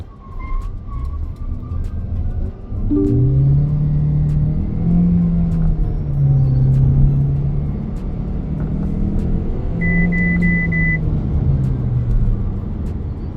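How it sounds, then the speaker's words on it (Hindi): A 2025 MG HS plug-in hybrid SUV accelerates hard from a standstill toward 100 km/h, its engine note rising loud and steady in stepped surges as it pulls through the gears, with no talking. "देखते हैं कि ये गाड़ी 0 से 100 के अंदर में करती है"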